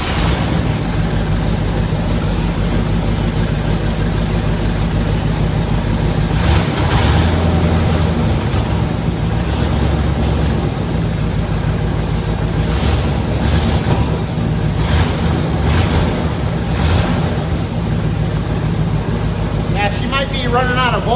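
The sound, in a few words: 1972 Corvette 454 engine running and revving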